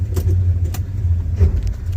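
A 1972 Buick Skylark sits idling in park, a steady low engine rumble close by with a few faint metallic clicks and a slight exhaust leak.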